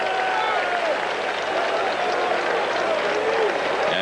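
Baseball stadium crowd at the 1986 World Series between the Red Sox and Mets applauding an injured Bill Buckner, a broad sustained roar of clapping and cheering under a broadcaster's voice.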